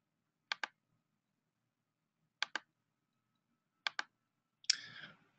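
A computer mouse gives three quick double-clicks spaced about 1.5 seconds apart in a quiet room, then a final slightly longer click-and-rustle, each crisp and close.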